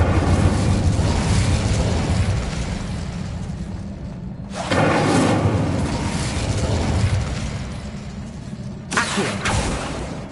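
Incendio fire spell cast in the Hogwarts Legacy video game on PS5, a loud roaring whoosh that swells and holds, then a second burst near the end.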